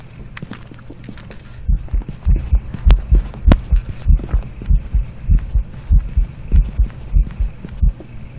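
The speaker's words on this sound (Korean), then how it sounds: "이거 발소리 들린 거예요?" During a hunt in the horror video game Phasmophobia, a ghost's heavy footsteps thud close by in a fast, steady rhythm of about two per second, starting after a quieter opening and continuing to the end.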